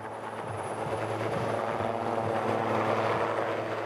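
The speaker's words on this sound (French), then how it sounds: "L'hélicoptère du président Evo décolle, comme aspiré par le ciel." A Bolivian presidential helicopter taking off on the Altiplano, a loud, steady rotor and engine drone with a low throbbing pulse, building slightly in intensity throughout.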